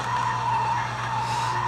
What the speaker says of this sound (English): Just gotta tap, tap, tap, tap, tap on the brakes going into here.